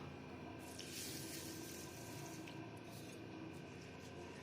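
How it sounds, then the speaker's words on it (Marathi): Moong dal and rice are rinsed in water at a tap, with a continuous quiet stream of running and splashing water close by and no one speaking. "आता इथं आपण घेतलेली मुगाची डाळ आणि तांदूळ हे स्वच्छ धुवून घेऊयात"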